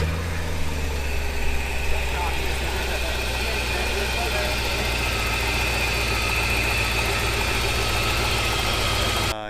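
Porsche 928 idling and creeping slowly in a parade: a steady, deep, close engine rumble that holds almost unchanged throughout and cuts off at the very end.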